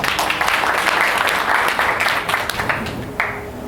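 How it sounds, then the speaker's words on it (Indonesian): A church congregation at a Sunday service breaks into applause, a loud, dense burst of many hands clapping that carries steadily throughout, then tapers and thins near the close. "Berikan tepuk tanganmu."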